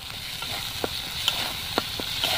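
Spice paste with ground coriander and oil is stirred and fried in a pan for a village-style jackfruit curry, a steady soft sizzle with a few sharp spoon scrapes and taps at irregular intervals.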